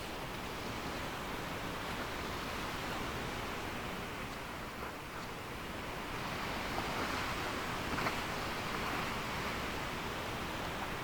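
Calm open-ocean waves in the Sailwind sailing game wash in a steady, broad surf wash that swells slightly partway through, with no voices over it.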